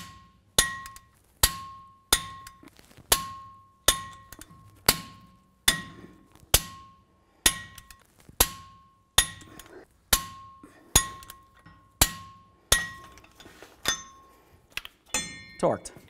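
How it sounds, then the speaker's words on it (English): A torque wrench with a 21 mm socket clicks on hub extension nuts of a 2017-or-later Ford F-350 dually truck: about eighteen sharp, evenly spaced metallic clicks with brief ringing tails, close up and alone. "Let's torque these to 165 foot-pounds with our 21 millimeter socket."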